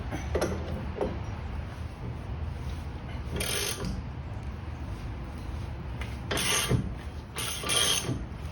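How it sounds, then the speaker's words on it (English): An adjustable wrench turns the nut to drive a front wheel bearing into a 986 car. Quiet, intermittent creaking and ratcheting bursts come from the metal mechanism, with no voices. "And we're going to drive the bearing in."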